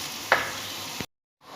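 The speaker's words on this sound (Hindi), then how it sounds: "ऑयल हमने यहाँ पे ऐड कर लिया तो अब इसके अंदर हम ऐड करेंगे प्याज।" Onions frying in a generous amount of oil in a pot for chicken korma give a steady, close sizzle with a couple of sharp stirring clinks, then break off into silence before the sizzle resumes.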